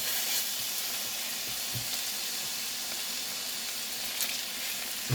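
Chicken thighs sizzle and fry steadily in a hot pan, a constant close crackling hiss with no talk.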